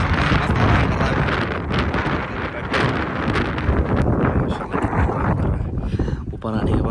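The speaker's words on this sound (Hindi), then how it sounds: "ऊपर आने के बाद जो हवा चल रही है" Strong wind on a mountain top buffets the microphone in a constant loud roar with gusty rumbles, while people talk over it.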